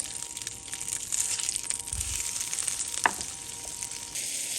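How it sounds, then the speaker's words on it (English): A steady, loud sizzle of an egg frying in a pan inside a browned sausage ring, with a brief crackle partway through and no voices. "Now I'm going to go ahead and crack my egg at this point."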